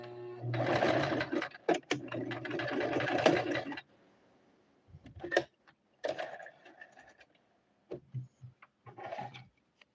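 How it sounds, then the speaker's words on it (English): A sewing machine stitching a decorative shirt runs in a steady, fast mechanical whir for a few seconds, then continues in short, stop-start bursts of stitching separated by quiet pauses. "One-hander sewing."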